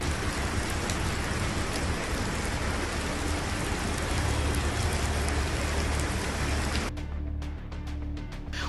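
Heavy rain during a downpour in coastal Karnataka: a dense, steady roar of drops hitting surfaces for most of the stretch, shifting abruptly to a thinner, patterning rainfall near the end.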